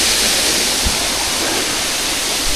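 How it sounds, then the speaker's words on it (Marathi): A waterfall beside a hillside trail near Panhala roars steadily, a loud, dense, unbroken rush of falling water filling the scene with no voices. "त्यानंतर एक ओढाला हे लागलं धबधबा समोर वॉटरफॉल दिसतो आणि ही वाट आहे."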